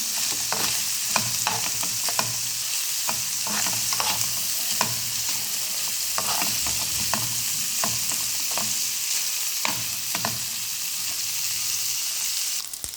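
Chicken pieces with turmeric and salt sizzle and fry in a pan while being stirred, a steady loud hiss broken by repeated scraping clicks of the spoon against the pan.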